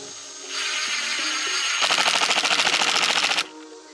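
Power drill driving an exterior screw through a hole in a wooden beehive frame: a steady whine, then a fast rattling burst of screw-driving for about a second and a half, close and loud, ending abruptly.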